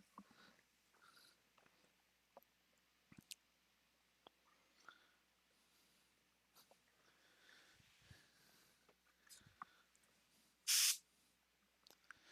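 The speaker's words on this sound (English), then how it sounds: "Now I'm spraying compressed air at her because the water bottle's on the other side of the room." A short, loud hiss of compressed air sprayed at a house cat that had been stuck in a laundry basket, a single burst near the end after faint scattered clicks and rustles.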